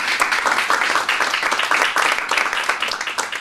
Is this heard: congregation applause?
yes